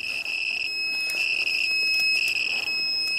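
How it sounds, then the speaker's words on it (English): A radiation dosimeter alarm goes off near a Geiger counter, sounding as a shrill, steady electronic tone pulsing in short on-off bursts, close and fairly loud over faint background noise. "That's just an alarm that goes off"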